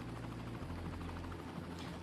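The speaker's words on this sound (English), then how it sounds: "waiting for the helicopter to clear out." A helicopter in the city-building game Cities: Skylines gives a steady, continuous rotor drone with a low buzzing hum, holding at a constant moderate level with no talk over it.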